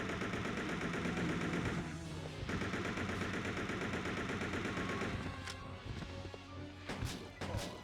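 An assault rifle fires in a PS2 lightgun arcade shooting game, long rapid bursts of gunfire that cut off briefly, resume, then break into a few sharp isolated shots near the end.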